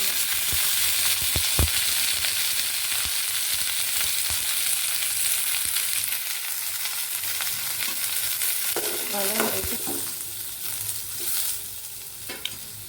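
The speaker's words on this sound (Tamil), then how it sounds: "வெங்காயத்தை லைட்டாக வெறும் சட்டியிலே 2 வதக்கு வதக்கிட்டு" Onions being sautéed in a dry pan for a bitter gourd kuzhambu, with a continuous dense sizzle and scattered scraping and stirring knocks, close by and without speech.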